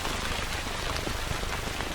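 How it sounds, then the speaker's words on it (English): Heavy tropical rain pours over the Corcovado jungle, a dense, constant hiss of drops on leaves and ground that stays loud and even throughout, with no voices. "Over 200 inches of rainfall saturate this tropical Eden each year"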